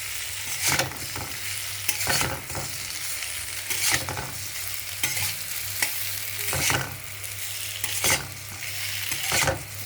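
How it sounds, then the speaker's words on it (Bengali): Fried potatoes being stirred with spices in a pan for a Bengali cabbage curry, a spatula scraping in repeated strokes over a steady close sizzle, with no talking. "এবার একটু নেড়ে নেব।"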